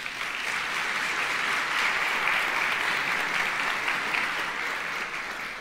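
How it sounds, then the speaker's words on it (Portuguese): Sustained, dense applause from an audience congratulating someone named Davi, steady and fairly loud throughout with no break, a continuous wash of many hands clapping together. "Uma salva de palmas pro Davi."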